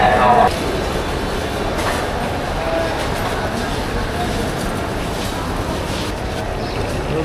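Train at Kamalapur railway station in Dhaka, heard as a steady rumbling rail noise filling the platform, with crowd chatter and station bustle mixed in and a brief louder burst at the start.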